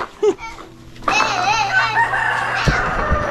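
A rooster crows loudly and close by at a rural provincial birthday gathering, its long wavering call stretching over about two seconds, while children chatter and shout around it.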